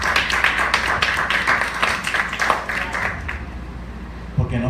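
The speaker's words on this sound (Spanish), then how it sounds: "Denle un aplauso fuerte al Señor." A church congregation claps in rhythmic, fairly loud bursts that gradually thin out toward the end.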